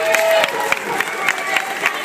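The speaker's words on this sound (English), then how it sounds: "Let's give a round of applause for Ashley." Audience applause and cheering at a college Fear Factor event, a short burst of clapping with crowd noise and sharp individual claps, fairly loud, with voices mixed in.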